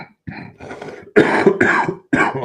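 A man coughs in a series of harsh, close bursts, a couple of short hacks followed by three heavier, louder coughs with brief pauses between, no talking.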